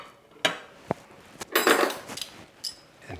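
A metal serving fork and spoons clink and scrape against dishes at a summer dinner table setting, a few sharp separate clinks followed by a busier clatter, close and fairly quiet.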